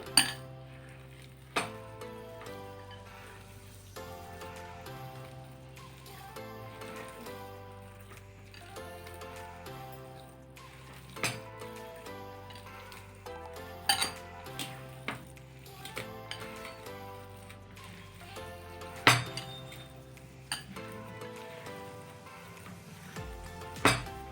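Ragi flour dough being mixed in a bowl for rotti, with scattered clinks and taps of utensil against the bowl over a faint steady background, no one speaking.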